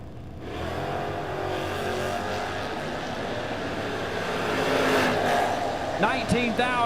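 Drag racing cars at a footbrake event, a Mustang from Virginia among them, roar loudly and steadily down the strip, with engine noise building toward the end while an announcer talks over it.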